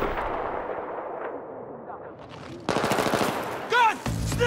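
Gunfire in the video game Battlefield 3, a dense burst of rapid automatic shots followed by further loud cracks, with a shouted voice in the middle of the shooting.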